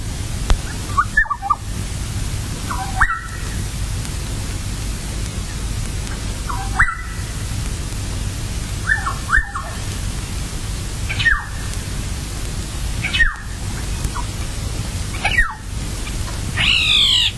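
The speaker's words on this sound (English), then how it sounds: "That sharp chirr is the alarm call." Sharp, harsh calls of a black-headed oriole recur every couple of seconds over a constant background hiss, ending in a longer rasping alarm chirr.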